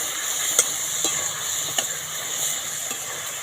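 Spices and pointed gourd (patol) frying in a pan, a steady soft sizzle with a few light stirring clicks, close and quiet with no talk.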